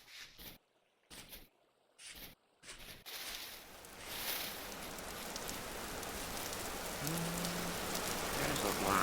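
Rain in the video game Vintage Story: after a few choppy bursts at the start, a steady, dense patter of rain settles in and grows slightly louder, filling the scene with no talking.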